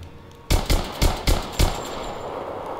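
Rapid gunfire in Rise of the Tomb Raider, five loud, close shots fired in quick succession after a brief quiet lead-in, followed by lingering echo and ambience.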